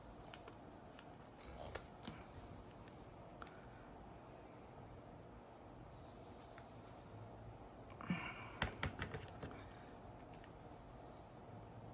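Scissors trim vellum paper in a quiet craft setting, giving soft crisp snips spread through the clip, with a brief cluster of sharper cuts near the end.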